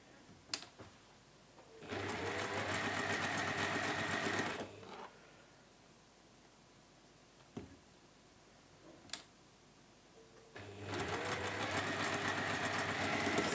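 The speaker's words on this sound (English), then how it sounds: "And again, we can chain piece that." Sewing machine chain piecing quilt squares across marked corner lines, two steady motor-driven stitching runs of a few seconds each separated by quiet pauses with faint clicks.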